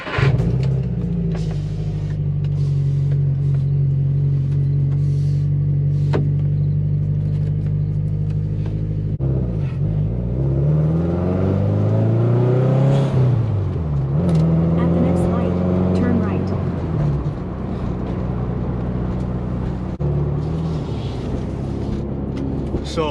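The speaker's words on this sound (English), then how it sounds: "I roll my windows down because I want you guys to better hear the sounds of my car" A 2011 Subaru WRX with its windows down, its engine droning and rising through several revs while driving, a low steady rumble swelling and falling as the car accelerates and shifts, with occasional talk over it.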